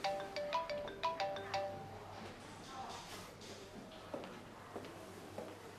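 A phone ringtone plays a quick repeating melodic pattern several times, fairly quiet and indoors, then gives way to soft rustling and a few small knocks.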